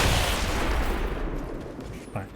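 A Remote Start explosion in XCOM 2 hits loud and low right at the start, a big boom that rolls and fades over the next two seconds.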